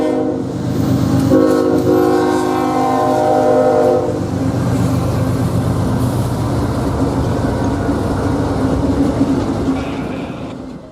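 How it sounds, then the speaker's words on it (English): A CSX intermodal freight train led by three GE locomotives passes close by, its horn blaring in steady tones for several seconds before giving way to a loud rolling rumble and clatter of cars that fades slightly at the end. "comes CSX I-159 with 3 elephant-style GEs on the point and a rear long hood forward DPU rebuild number 7001"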